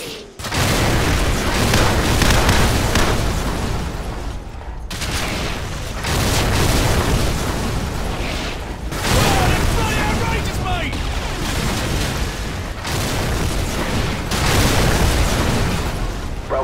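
Heavy artillery strike explosions in Call of Duty 4: Modern Warfare, a rolling series of loud, deep booms and blasts in roughly three-second waves, with gunfire crackle and dense battle noise filling the gaps.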